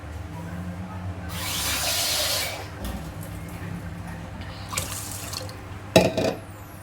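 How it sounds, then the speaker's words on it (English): Tap water runs and splashes into a pot of washed rice for home-style nasi lemak, a steady pour lasting several seconds that then stops, leaving a few drips and a brief clatter of the pot near the end. "Now we can add about 600 ml of water."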